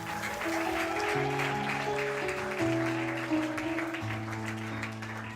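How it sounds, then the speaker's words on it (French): Congregation applauding at a church Christmas celebration, a dense sustained clatter of many hands running under held keyboard-like musical chords. "Applaudissez encore."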